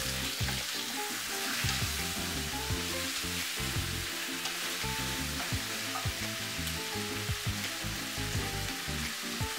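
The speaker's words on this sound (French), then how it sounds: "Ajoutez les morceaux de viande, cuire le tout 3 minutes à feu vif." Beef pieces frying over high heat with ginger, garlic and onion, a loud continuous sizzle with dense crackle and frequent scraping stirs throughout, no talking.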